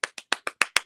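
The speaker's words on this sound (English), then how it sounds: "I need an applause." A single person clapping hands seven times in a quick, even rhythm, each clap crisp and close with silence between.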